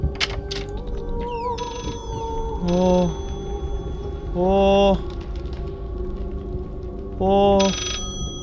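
A telephone in the horror game Layers of Fear rings in three separate bursts, each a harmonic trill about a second long, spaced a couple of seconds apart over a quiet, eerie background with faint clicks.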